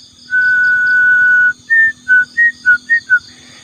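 A person whistles nearby: one long held note, then a quick run of six short notes at varying pitches, heard alone against quiet outdoor night air.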